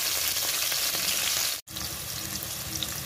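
Mint and coriander leaves frying in hot tempering oil for a potato curry, a loud steady sizzle that cuts out briefly midway before resuming just as strongly, with no talking.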